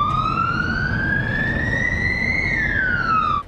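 A municipal police car siren on night patrol wails loud and close, its tone rising slowly and then falling back, over a steady rumble of traffic and engine noise.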